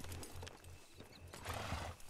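A horse in RedM, the Red Dead Redemption 2 roleplay game, trots with a steady, even clip-clop of hooves and a faint whinny, and the sound stays moderately close throughout.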